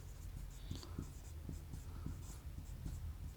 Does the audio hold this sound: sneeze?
no